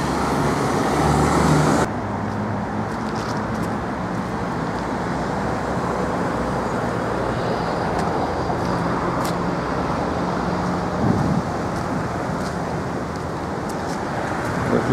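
Steady roar of road traffic in Kyiv while crossing a street near a bridge, with continuous broadband vehicle rumble and a brief drop in level at the start, and no voices.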